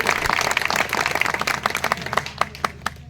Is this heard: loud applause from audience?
yes